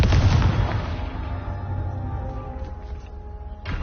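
A Confringo blasting spell fired in Hogwarts Legacy bursts loud at the start, then fades into a long rumbling explosive roar.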